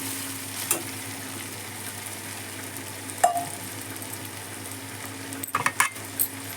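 Okra sizzles and fries in oil in a pan, a steady low crackle broken by a few sharp clinks and scrapes of a spoon stirring against the metal, with no talking.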